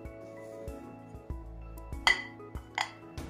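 Sweet mai-sok is placed into plates with sparse, close clinks of dishes and utensils against a quiet hum of the room, and no one talks.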